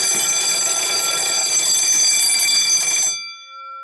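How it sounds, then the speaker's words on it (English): A 1970s burglar alarm bell, triggered by breaking glass that cuts an aluminum foil strip, rings loudly and continuously for about three seconds, then cuts off, leaving a faint fading ring. "You break the glass, it disconnects the aluminum foil, and sets the alarm off."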